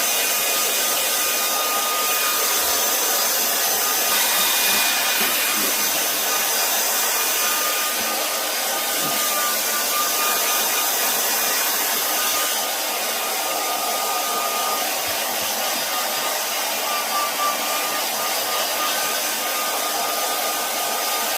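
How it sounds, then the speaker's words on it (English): Blow dryer aimed at the damp belly of a mounted hooded merganser during taxidermy: a steady, loud, close hiss of rushing air and motor whine that holds unbroken for over twenty seconds with no talking. "Let me get a blow dryer on his belly."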